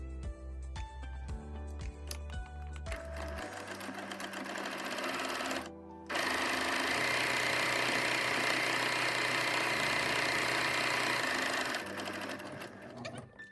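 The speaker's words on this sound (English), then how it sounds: "Now I'm going to sew along the top edge to finish it." A sewing machine stitches along the top edge of a fabric pencil wrap case, first a rhythmic mechanical chugging, then a fast steady whir that pauses briefly and resumes, running close and alone without talk.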